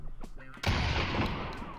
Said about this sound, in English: I fucking love shooting guns in VR!